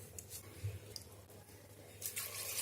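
Two glasses of water poured into a pressure cooker holding vegetables, bay leaf, turmeric and salt for veg kurma, soft splashing and trickling heard faintly, in short bursts early on and again near the end.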